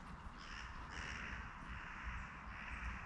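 Crows caw repeatedly in a public park in Armagh, harsh calls overlapping against a rushing outdoor background, moderately near but fairly quiet overall.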